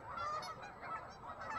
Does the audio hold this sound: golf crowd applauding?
no